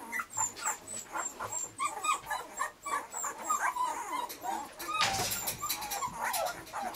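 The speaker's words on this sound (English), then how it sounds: "These are Art and Carney's puppies" Week-old Standard Poodle puppies whimpering and squeaking in a steady stream of high, thin cries, close by, with a few louder yips.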